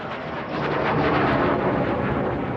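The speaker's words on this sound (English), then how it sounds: "Ex-military fighter jets." An ex-military fighter jet roars past in a loud, broadband rush that swells and holds steady for a couple of seconds.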